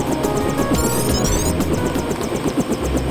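Helicopter in the video game Deus Ex, a steady loud rotor throb and engine drone filling the whole stretch, with brief bright electronic game tones overlaid partway through.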